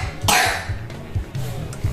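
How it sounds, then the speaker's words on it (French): A child coughs a few times in short, rough bursts with a throat-clearing quality. The coughs are close and moderately loud, separated by brief pauses. "Tousse bien et tu vas cracher"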